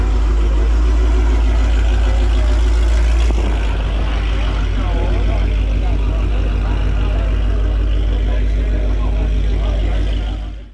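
A 2024 Ford Mustang idles with a steady, loud, low engine rumble running throughout, while people talk nearby over it.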